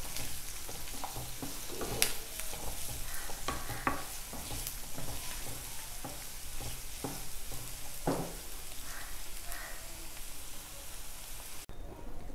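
Onions sautéing in a pan for Kerala-style beef with crushed chilli, a dense continuous sizzle like light rain, broken by repeated stirring scrapes and clinks throughout, with no speech.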